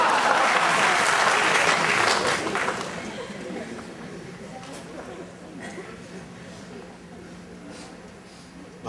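Audience applause at a Hindi speech event, loud and dense for the first two seconds, then tapering into lighter, scattered clapping that carries on faintly to the end.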